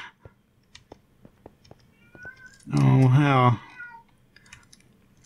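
A house cat meows loudly and close by in one drawn-out, wavering call lasting under a second, heard over faint clicking and a few brief spoken words.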